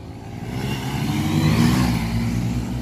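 Honda Trigger and Bajaj Pulsar 125 motorcycles accelerating together in a drag race, a loud, steady engine roar that builds and swells midway before holding strong to the end.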